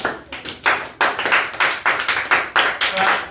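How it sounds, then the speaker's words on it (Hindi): A classroom of students claps together in a lively, rhythmic burst of many hands, loud and close, with regular bursts roughly every third of a second. "एक बार अविनाश के लिए जोरदार तालियां हो जाए।"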